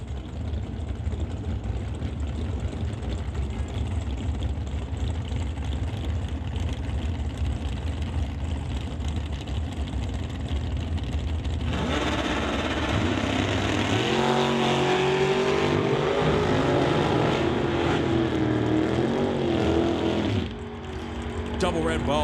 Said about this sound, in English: We bring back Dustin Brewington with the Camaro out of Kennewick, Washington to race Cam Shantz in the Ford Roadster.